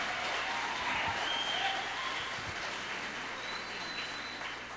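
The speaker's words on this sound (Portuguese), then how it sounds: "receba o bispo Denilson aplaudindo ao Senhor bem forte." A church congregation applauding during a service, a fairly faint, even wash of clapping that fades slightly toward the end, with no speech.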